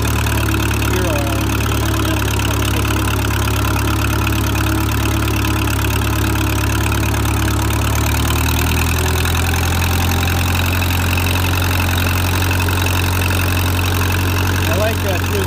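A Minneapolis Moline Jetstar 3 tractor engine idles loudly and steadily nearby, a constant low rumble, with someone talking over it.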